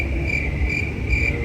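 Crickets chirp steadily in a high, pulsing trill, close and continuous over a low background hum.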